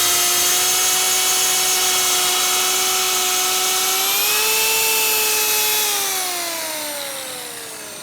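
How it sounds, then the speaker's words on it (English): A track saw whines at high pitch while cutting a wooden tabletop to size, holding a steady tone before the pitch shifts and the sound fades as the cut finishes. "it's time to use our track saw to cut it down to its final size"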